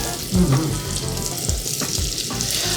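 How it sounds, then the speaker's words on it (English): Bacon frying in a Staub cast iron skillet, a steady close sizzle and crackle with a few soft scrapes and knocks, no talking. "Cook some more bacon."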